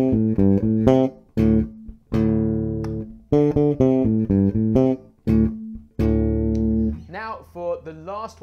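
Bass guitar playing a bass line at full tempo in a beginner lesson, a loud, close, repeating riff of punchy low notes in short phrases with brief gaps.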